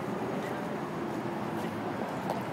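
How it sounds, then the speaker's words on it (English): Steady traffic roar from the West Side Highway drifts up to an elevated park beside the Hudson River, a constant broad hum with no distinct vehicles standing out and no talking. "Enjoy the sounds of the traffic from the West Side Highway."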